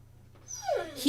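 A dog gives a short, rising whimper that ends in a sharp yelp, fairly faint over a low background hum, with no talking during the sound.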